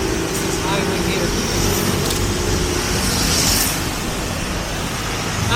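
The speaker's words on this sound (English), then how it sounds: "Now there's a lot of traffic, so probably it was like a red light." Road traffic on a highway in Bali, a dense continuous roar of passing cars, motorbikes and heavier vehicles, loud and close with steady wind-like wash.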